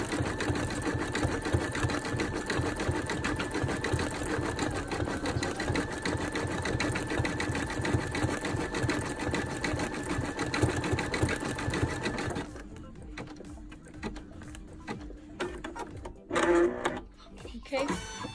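A Brother Innovis 2800d embroidery machine stitches a llama design, a loud, steady rapid whirring and needle clatter that runs continuously for about twelve seconds, then stops, leaving quiet handling noises and a brief clunk near the end.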